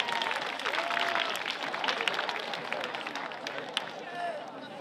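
An audience at a school show claps in a sustained round of applause, dense and fairly close, with some crowd chatter mixed in.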